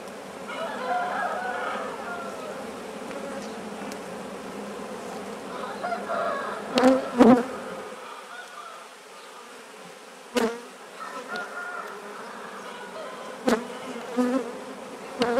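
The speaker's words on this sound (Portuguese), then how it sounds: "é um enxame super forte, já construiu, esse é o penúltimo favo" Bees from a strong new swarm in a hive nucleus drone in a close, steady buzz through the first half, then fade to quieter humming with scattered knocks and clicks, with a rooster audible faintly.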